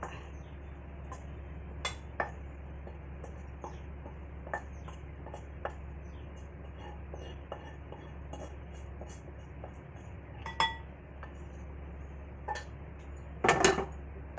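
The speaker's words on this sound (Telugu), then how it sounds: "ఇప్పుడు నేను దీన్ని బౌల్లోకి సర్వ్ చేస్తాను" Ivy gourd (dondakaya) fry spooned from a pan into a bowl: scattered light clinks and scrapes of a utensil against metal and dishware over a steady low hum, with one louder cluster of clatter near the end.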